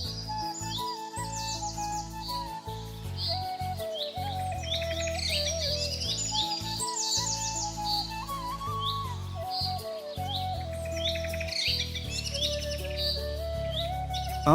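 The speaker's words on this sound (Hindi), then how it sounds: "यहाँ पर भिन्न भिन्न प्रकार के पक्षियों की प्रजातियाँ भी आसानी से दिखाई दे रही है।" Several bird species call continuously in the Phato Eco Tourism Zone forest, with overlapping chirps, trills and whistles, some near and some farther off, over a steady low vehicle hum.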